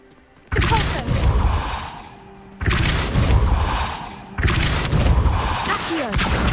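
The Depulso spell in Hogwarts Legacy fires three times in a row, each cast a sudden loud whooshing burst that fades over about a second and a half before the next.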